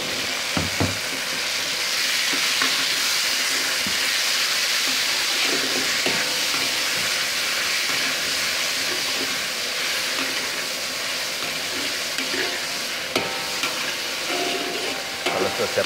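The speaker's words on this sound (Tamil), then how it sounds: "இது நல்லா எண்ணெயோடு நல்லா வதக்கிக்கோங்க." Fish cake frying in hot oil in a wok for Hokkien mee kicap, a steady loud sizzle running throughout with occasional stirring scrapes.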